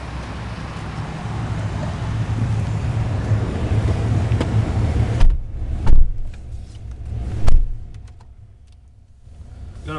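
A 2005 Ford F150 FX4 crew cab 4x4 pickup with a 5.4 V8 on a test ride: a steady, loud engine and road drone, then quieter cabin sound broken by a few sharp thumps and clicks.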